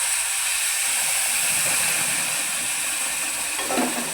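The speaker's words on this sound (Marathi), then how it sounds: "ह्याच्यात टाकूया गरम केलेलं पाणी" Boiling hot water is poured into roasted semolina in a pan for upma, giving a steady, loud steamy hiss and sizzle that lasts throughout, with a brief rise in bubbling near the end.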